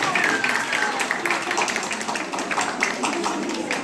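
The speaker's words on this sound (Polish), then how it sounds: "wielkie brawa, dłoni kochani" Applause at a folk ensemble festival awards moment, steady crowd clapping with some chatter and voices mixed in, fairly loud throughout.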